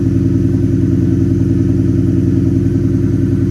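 Ford F-150 with a 5.0 engine and Flowmaster 40 exhaust rumbling loud and close, a steady deep throb with no clear rise in pitch and no voices.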